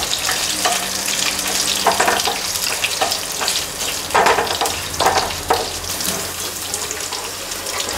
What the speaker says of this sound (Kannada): ಬೆಳ್ಳುಳ್ಳಿ ಸ್ವಲ್ಪ ಫ್ರೈ ಆಗ್ತಿದ್ದಂಗೆ ಮತ್ತು ಹುಷಾರು, ಮತ್ತು ಬೆಳ್ಳುಳ್ಳಿ ತುಂಬ ಹೊತ್ತು ಎಣ್ಣೆಯಲ್ಲಿ ಕಾಯಕ್ಕೆ ಬಿಡಬೇಡಿ